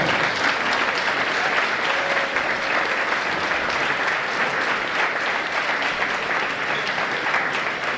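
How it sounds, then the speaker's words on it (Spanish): Dense, sustained audience applause for a municipal music school at an Asturian Christmas music gathering, steady and full for the whole stretch with no talk over it. "Un aplauso para la Escuela de Música Municipal de Bravo."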